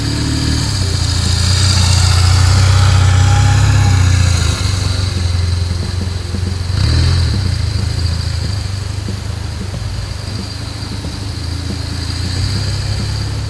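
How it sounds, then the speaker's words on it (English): A motorcycle engine idles and runs at low speed during a slow clutch-and-brake riding drill. The steady mid-pitched hum swells slightly and then settles, heard close and continuous with no talk. "Your bike will start to accelerate and regain its balance."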